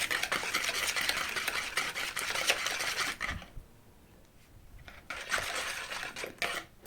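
Sugar mixture being stirred in a bowl, a steady scraping and clinking of a utensil against the sides that drops away briefly midway before resuming, close and fairly quiet.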